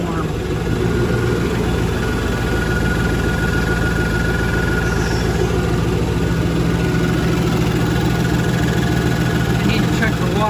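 A car engine idles continuously during an engine test, warming up, with a steady, low rumble, loud and close, unchanging throughout.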